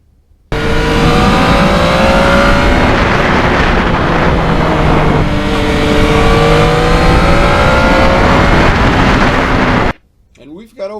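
A Yamaha MT-09 three-cylinder crossplane motorcycle engine drones steadily and loudly during a spring ride, its pitch climbing through the revs, dropping briefly at a gear change and climbing again before cutting off abruptly near the end.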